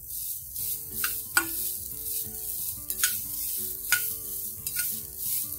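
Tender sorghum grains (hurda) roasting in ghee in a pan, a steady close sizzle punctuated by repeated light metallic scrapes and taps of stirring every second or so.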